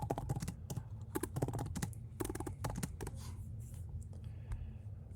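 Rapid clatter of keys on a computer keyboard, in quick irregular bursts with short pauses, close and fairly quiet, no voices.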